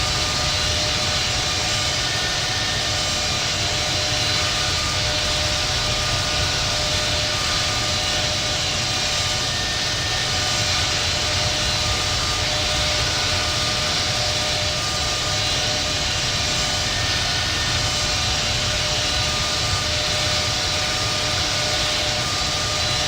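Jet engines of an American Airlines Boeing 777-200 in the Infinite Flight game hum loudly and continuously while taxiing to the runway at Los Angeles, a steady whine over a broad rumbling roar with no pauses.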